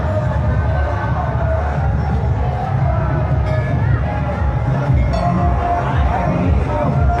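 Crowd of devotees thronging the Sunasar Nath Shiva temple on Mahashivratri, a dense, steady hubbub of many voices and movement that stays loud and constant throughout.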